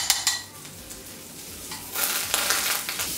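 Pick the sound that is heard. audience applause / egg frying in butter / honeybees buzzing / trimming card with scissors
egg frying in butter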